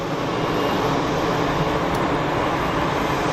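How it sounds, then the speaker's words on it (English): An easyJet Airbus A320ceo at Geneva Airport gives off a steady, loud, broadband jet roar that holds evenly throughout, with no voices. "A320 CEO, Geneva, Manchester."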